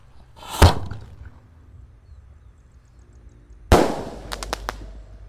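Two sharp bursts from a 4-inch jumbo Roman candle about three seconds apart, the second followed by a quick crackling pop or two, loud against a quiet outdoor background.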